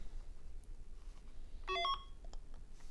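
A Merlin retro handheld electronic game gives a short burst of bright electronic beeps, a quick run of stepped tones lasting under half a second, fairly faint in a quiet room with no voices.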